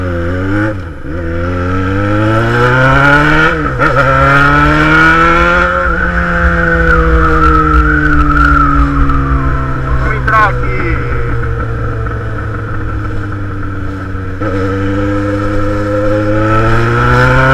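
A Yamaha XJ6 motorcycle with a straight-through exhaust pipe revs loudly and continuously up close, its pitch climbing and dropping through several gear changes while people talk over it.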